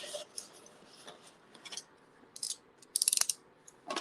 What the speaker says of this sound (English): Always use scissors to tidy it up.